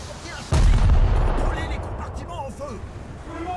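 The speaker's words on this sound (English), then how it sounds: "and there goes my rear ammo rack" A warship's rear ammunition rack detonates in a naval video game, a sudden loud booming blast that rolls and decays over a few seconds, with someone talking over it.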